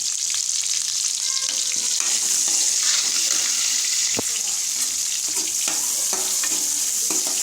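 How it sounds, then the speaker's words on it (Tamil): Onions and green chillies sauté in hot oil for a brinjal masala, giving a steady, close sizzle with occasional stirring scrapes and clinks. "அடுத்து வெங்காயம் பச்சை மிளகாவை போட்டு வதக்கிட்டு"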